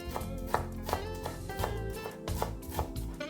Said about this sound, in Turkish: Maydanozları da gördüğünüz gibi ince ince doğruyorum.